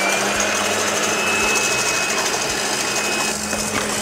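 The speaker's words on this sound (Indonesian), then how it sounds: "Nah, ini aku akan aduk pakai mixer." An electric mixer whips three egg whites in a bowl, a loud steady high whirring buzz with a constant motor hum running unbroken throughout.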